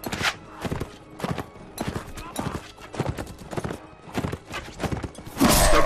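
Horse hoofbeats in the Mount and Blade video game, a fast, rhythmic clip-clop of galloping hooves, steady and close, with a voice talking over them throughout.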